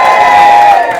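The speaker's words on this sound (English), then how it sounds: "I think we need a big cheer for George today" Wedding guests cheer for the best man in a short, loud burst of crowd noise and whoops.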